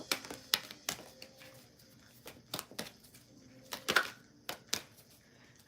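Tarot cards are shuffled during a love reading: soft, scattered riffles and taps come in short irregular bursts, quiet and close, with no talking.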